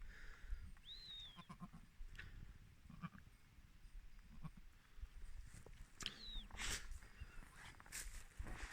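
Goats and newborn kids bleat in short, high-pitched calls, a couple of thin cries rising above a steady outdoor background, with no talking.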